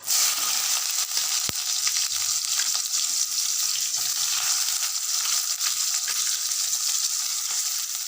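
Onions frying in a pan with dried red chillies for hotel-style idli sambar, a loud, close, continuous hiss of sizzling oil with one sharp clink near the start and faint stirring.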